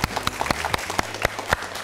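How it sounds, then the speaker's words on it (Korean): A lecture audience claps for a student volunteer at a magician's talk, a fairly loud clapping with distinct sharp strikes landing in a rough, regular rhythm near the listener. "다시 한번 큰 박수 부탁드리겠습니다"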